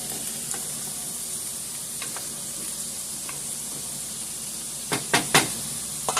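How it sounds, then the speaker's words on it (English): Provolone cheese and fries sizzling in a pan, with a constant close hiss of frying and a few sharp clacks of a spatula toward the end, no talking. "I'm just going to add my provolone to the pan as well, so that can melt down."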